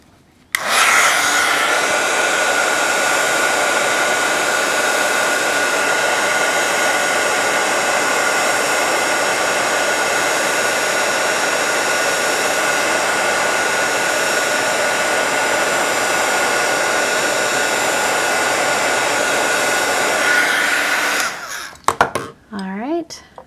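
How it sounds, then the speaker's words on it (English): A craft heat tool blows on a layer of a card, giving a loud, steady, close whirring hiss that runs for about twenty seconds before it cuts off abruptly, followed by faint handling sounds. "So let's hit this with my heat tool and we'll do another layer."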